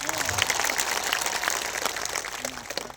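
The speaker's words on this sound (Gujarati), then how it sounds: "એમના માટે જોરદાર આપણે તાળીઓ પાડી લો." A crowd at an outdoor political rally in Zankhvav claps for police officers, a dense, continuous patter of applause with a few voices faintly mixed in.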